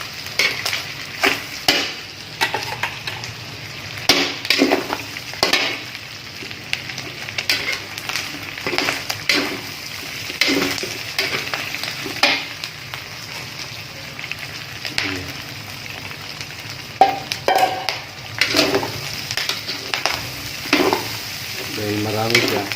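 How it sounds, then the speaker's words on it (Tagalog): Garlic and pork sizzle in hot oil in a pan for a pork dinuguan, with a steady crackling fry broken by repeated scraping strokes as the mixture is stirred. "Lagyan natin yung bawang."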